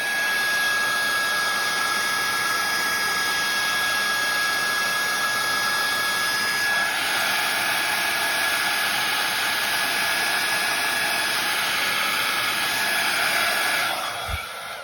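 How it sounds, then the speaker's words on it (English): A heat tool blows hot air in a loud, steady roar to dry alcohol ink, running continuously with a slight shift in tone partway through before cutting off near the end. "I'm going to use my heat tool on it, which dries off a bit."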